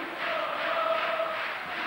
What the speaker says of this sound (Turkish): Beşiktaşlı seyircilerin, taraftarların büyük desteği var.